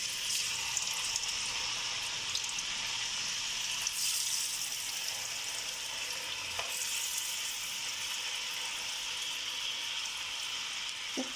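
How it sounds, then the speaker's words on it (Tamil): Potatoes frying in hot oil give a steady, close sizzle that crackles continuously throughout, with a few brief stirring clinks and no talking. "ஆயில் நல்லா ஹீட் ஆகிருக்கட்டும். நான் ரெடி பண்ணி வச்சு பொட்டேட்டோஸ் ஆட் பண்ணிக்கலாம்."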